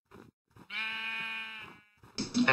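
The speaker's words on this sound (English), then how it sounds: "Hey, that's a gray sheep." A gray sheep bleats in Minecraft: one drawn-out, wavering bleat with a strong tone lasting about a second, between soft thuds, followed by a brief noisier game sound.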